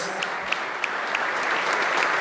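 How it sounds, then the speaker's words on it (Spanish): A congregation in church gives loud, sustained applause to God, a dense even roar of clapping with a few sharper individual claps standing out. "dele un fuerte aplauso a Dios"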